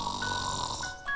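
A storyteller voices the Gruffalo snoring, a single soft, drawn-out rasping snore imitated by a human voice, close but quiet.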